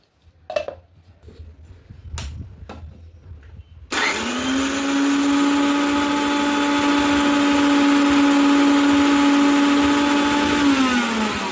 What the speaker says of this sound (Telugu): ఇది మిక్సీ ఆడుకోవాలి